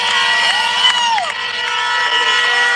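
A big crowd at a political rally cheers and shouts in a steady, dense roar, with whistle-like tones rising and falling above it.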